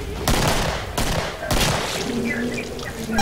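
Gunfire in the Killing Floor video game: three loud, sharp shot bursts spaced roughly half a second apart, each with a ringing tail, over steady background game noise.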